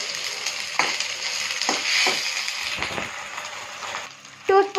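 Prawns fry and get stirred in a pan with coconut paste for a prawn curry, a steady close hiss of sizzling broken by several scraping stirs and a louder clatter near the end.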